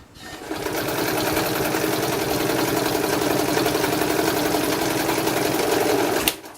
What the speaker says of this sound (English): If I can get it under the foot, which is no problem, it'll sew no problem.